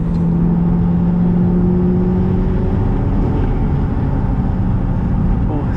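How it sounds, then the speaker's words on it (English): Twin turbo Audi R8 converted to rear-wheel drive, engine droning loudly and steadily from the rear with a falling whine, turbo blow-off valve whooshes faintly mixed into the continuous road and engine roar. "so weird hearing the turbo blow off valve noises from the rear"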